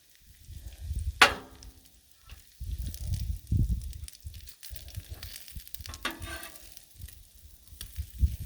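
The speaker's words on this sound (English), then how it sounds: "But we can throw some bacon over here." Bacon sizzles on a flat-top griddle beside vegetables, a steady crackling fry broken by sharp scraping clatters of a metal spatula or chopper, fairly close and moderately loud with no talking.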